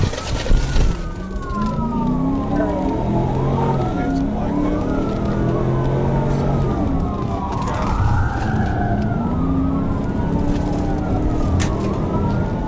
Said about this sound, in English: He flipped around and hit the lights and sirens